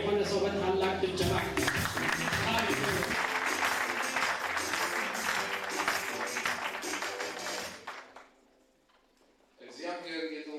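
Applause from a congregation at a church wedding ceremony, a dense, sustained burst of clapping mixed with voices that fades out, followed by a short pause and then speech.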